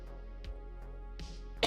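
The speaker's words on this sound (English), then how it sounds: "I just coughed like crazy" A person coughs a few times over a steady low hum, sharp short bursts spaced apart, ending in a louder harsh cough.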